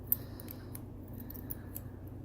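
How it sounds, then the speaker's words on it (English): Metal keys on a ring jingle and clink in a few short, bright bursts, close and quiet against a faint low background hum, with no talking. "There's my keys."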